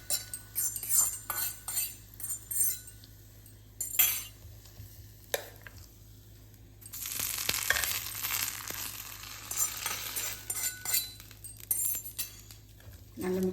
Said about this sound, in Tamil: நல்லா மிக்ஸ் பண்ணி விட்டுறலாம்.